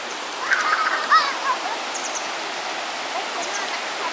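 Steady broadband rush of a waterfall near the Laos border by the Mekong River in Thailand, with faint splashing and brief distant voices of people playing in the pools.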